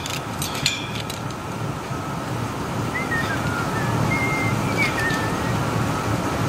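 A man working high on a tower whistles a faint, wavering tune in the distance over a steady windy, rumbling outdoor background.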